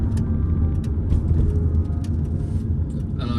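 Interior drive in a 2008 Kia Carens with an automatic diesel engine at around 60 mph: steady low road and engine rumble with tyre noise, loud and continuous throughout, no talking.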